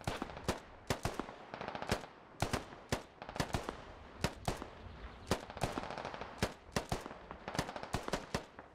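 Gunfire in the tactical shooter Squad: sharp, irregular bursts and single cracks of automatic weapon fire, some loud and close, others more distant, crackling steadily throughout with no talking.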